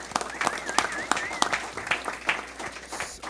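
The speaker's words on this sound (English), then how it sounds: "You can give her a round of applause." Scattered claps from the audience at a school district board meeting, sharp and uneven, mixed with ongoing talk in the room.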